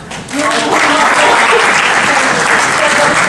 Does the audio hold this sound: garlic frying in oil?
no